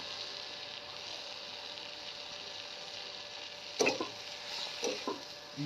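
Green chilies and cumin seeds frying in a pan over a wood-fired stove, a soft steady sizzle with a few brief louder stirring scrapes near the end.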